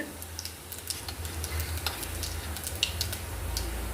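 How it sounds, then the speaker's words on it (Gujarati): Ajwain, asafoetida and other tempering spices sizzle steadily in hot oil for a guar vegetable curry, with a continuous close frying crackle, small stirring clicks, and a low background hum throughout, no talking. "ગવારનું શાક હોય એટલે આપણે એનો અજમાથી જ એનો વઘાર કરીએ"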